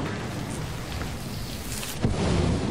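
Steady rain and thunder of a storm in the video game Lethal Company, a dense hiss with low rumbling throughout and a louder thunder crack near the end, no voices.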